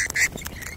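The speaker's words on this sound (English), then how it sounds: "who's having a squawk?" A bird lets out a short, harsh, nasal squawk up close, a couple of raspy bursts in under a second.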